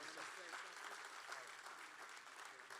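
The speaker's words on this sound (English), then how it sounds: "Give him a big round of applause." An audience at an entertainment showcase and awards ceremony claps steadily in sustained, fairly distant applause while a voice speaks over it.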